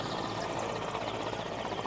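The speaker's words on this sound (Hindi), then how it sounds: "लगातार अलग अलग हेलीकॉप्टर नजर आ रहे हैं" Helicopters fly near a Narayanpur operation site where bodies from a Naxal encounter are being moved, giving off a continuous, fairly distant rotor thrum with a fluttering texture and no speech.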